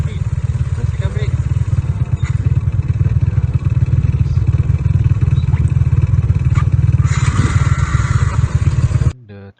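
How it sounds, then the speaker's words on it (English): A motorcycle engine idles after an automatic start triggered by rotating the throttle, with a steady low rumble and mechanical clatter, rising briefly near the end before cutting off abruptly. "rotate the throttle, and the engine will be automatically start"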